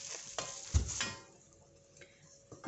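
Flour being stirred into a pan for a macaroni cheese sauce makes a few close scrapes and knocks up front, then settles into a quiet, low crackle.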